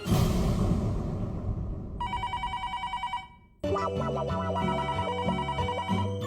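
A telephone rings in a home sitcom scene: a brief busy burst, then bright electronic trilling bursts, a short pause, and a louder repeating melodic ringtone, close and clear, with no talk.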